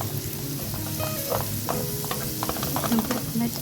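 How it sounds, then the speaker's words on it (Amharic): Onion and garlic frying in oil in a pan, a steady soft sizzle with occasional stirring scrapes, fairly quiet and close, with some speech alongside. "ዘይቱን፣ ሽንኩርቱን፣ ነጭ ሽንኩርቱን በደንብ አድርገን መጥበስ አለብን።"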